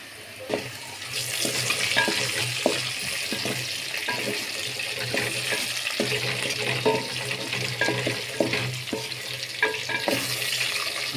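Potatoes frying in a pan with whole coriander seeds and cumin for restaurant-style aloo bhujia, a steady close sizzle broken by repeated scrapes and clinks of a spoon stirring against the pan, with no voices.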